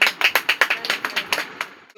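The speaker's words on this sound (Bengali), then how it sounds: "এটা জোরে হাততালি" Loud, sharp handclaps in a quick steady rhythm, about a dozen close-up strikes over two seconds, fading slightly toward the end, at a small team celebration.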